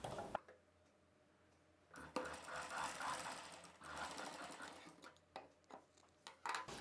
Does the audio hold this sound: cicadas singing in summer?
no